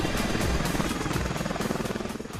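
An Apache combat helicopter flies overhead with a steady, loud rotor roar and a fast rhythmic blade chop throughout, no voices.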